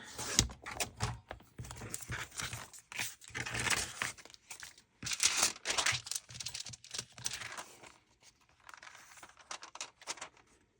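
Paper is trimmed to shape for a decorative envelope pocket, giving soft, uneven snips and crinkles close up. The sounds come in irregular clusters at a low level, with quiet gaps and no talk.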